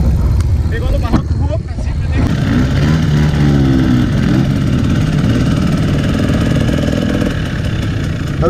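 A trail motorcycle engine revs steadily on a dirt trail ride, a loud continuous drone with a brief drop near the start, and a voice speaks over it.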